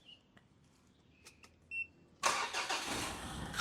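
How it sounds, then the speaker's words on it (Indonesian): A 2012 Mitsubishi Pajero Exceed diesel with automatic transmission starts up nearby. A few soft dashboard beeps and clicks are followed by the starter catching and a steady, rumbling diesel idle. "kita nyalakan dulu mesinnya biar teman-teman mendengar suara mesin ini."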